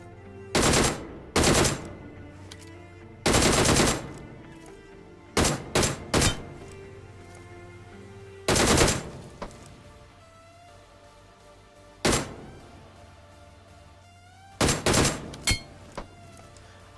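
Short bursts of DP-28 machine gun fire from the BGMI mobile game ring out in several separate volleys. Each burst is sharp and loud, with quiet gaps between them and no talk.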